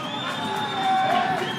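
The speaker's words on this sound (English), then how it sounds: "Here comes the Macmillan, being cheered by the local crowd." Local crowd in a packed boxing hall at a regional youth games cheering as a boxer makes his entrance, a steady loud roar with whoops and children's shouts swelling toward the end.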